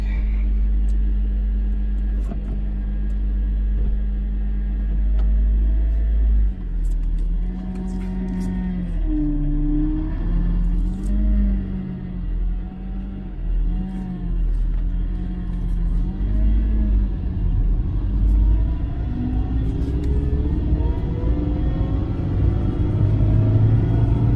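A 1995 Honda Civic Si hatchback drives along with a loud, steady engine rumble that rises and falls as it accelerates and shifts, heard from inside the car and close, with no voices.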